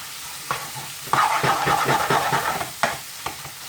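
Chicken and onions fry in a curry pan for a garlic chilli chicken curry, with steady sizzling and repeated scraping stirs of a utensil against the pan, close and moderately loud, no talking.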